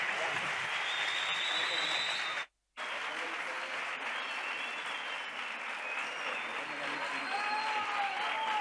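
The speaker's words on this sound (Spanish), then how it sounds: "no hace falta decir fuerte aplauso" An audience applauds at a choir's 25th anniversary concert, steady dense clapping that fills the room, breaks off briefly, then resumes and continues evenly.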